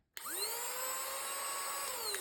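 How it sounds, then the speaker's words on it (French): A small rechargeable handheld vacuum cleaner switches on abruptly and spins up to a steady, close, high-pitched motor whine that holds without talk. "je prends un tout petit aspirateur pour la praticité"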